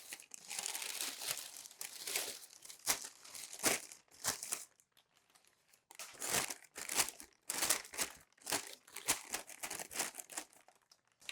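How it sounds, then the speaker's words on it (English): Crinkly packing paper from a candy dispenser kit box is unfolded and handled close by. Uneven bursts of crackling and rustling come with a short pause partway through. "open up this packing paper just to make sure there's no small pieces wrapped up inside of it"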